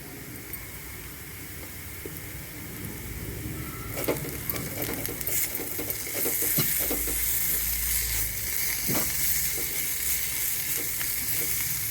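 Garam masala and ginger garlic paste sizzle steadily in a hot pan, with a constant frying hiss that grows louder midway and spoon scrapes mixing in.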